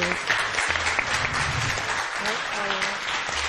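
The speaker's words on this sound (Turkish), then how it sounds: "Sizleri alkışlarla yerinizi alıyorum buyurun." A studio audience claps on a game show with mothers and daughters, a steady burst of applause mixed with voices and some low background sounds throughout.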